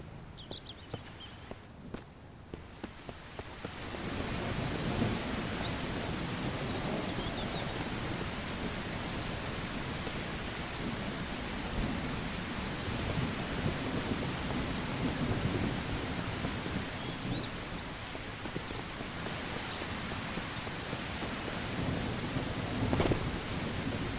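Steady, dense rainfall in the survival video game Mist Survival, a constant hiss that fills the whole stretch. A few light taps or footsteps come at the start before the downpour settles in, and no one speaks.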